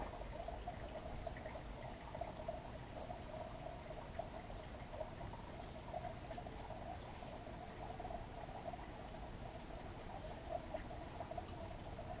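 Melted plastic is poured into a bait mold while recycling old soft plastic fishing baits, giving a steady, faint trickling pour that runs evenly throughout with no talking.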